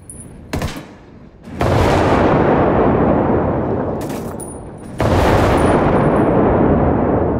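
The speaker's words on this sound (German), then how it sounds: "Oh oh, Vorsicht, der Tank explodiert," A tank explodes in the video game Ghost Recon Wildlands: several loud explosive blasts with long rumbling decay, sharp bursts around the first and fifth seconds, heavy roaring noise between them, no talking.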